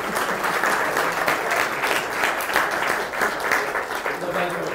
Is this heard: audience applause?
yes